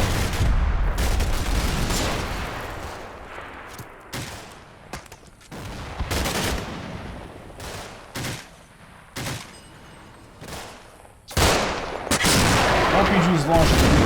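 Video game gunfire and BTR fire crackle in Combat Mission: Black Sea, with loud repeated bursts and booms that stop and start across the battle, and a voice talks over part of it.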